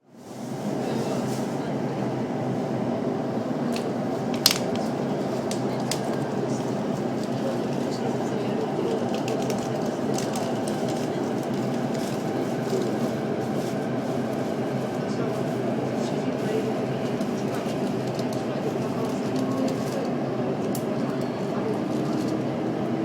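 Steady rumble of a train ride through Japan from Yamanashi to Kofu, a continuous loud low rolling drone with faint rail clatter and one brief sharp click, carrying on unbroken throughout.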